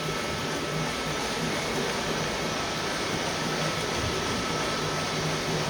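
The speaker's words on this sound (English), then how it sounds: "So this is a 17-inch Uni Pro buffer." A 17-inch Uni Pro floor buffer works over commercial carpet with a steady broadband whooshing drone that holds constant and fairly quiet.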